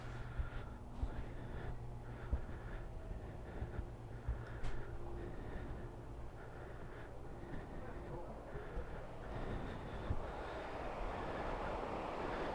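Inside a moving train, a steady low rumble and rattling carriage noise continue throughout, with faint voices talking now and then.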